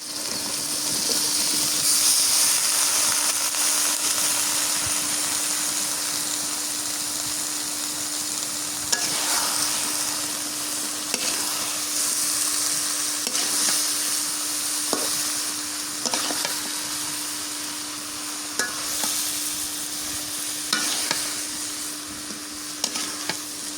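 Fish and spices frying in a pan with banana stem and prawns, a loud, continuous close sizzle lasting the whole stretch, broken by repeated spoon scrapes and stirring knocks, with a steady low hum underneath.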